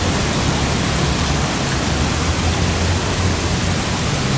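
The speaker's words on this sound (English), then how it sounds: "and the waterfall." An indoor waterfall in a hotel lobby with a lobby bar, Park Royal Pickering in Singapore, pours as a steady, dense, loud rush of falling water with no talk over it.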